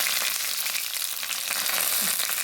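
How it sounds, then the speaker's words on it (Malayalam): Mustard seeds frying in hot oil give a steady, dense crackling sizzle that stays close and fairly loud for the whole moment, with no voices over it. "എണ്ണ ഒഴിക്കുവാണ്, കടുക് വറുക്കാം നമുക്ക്."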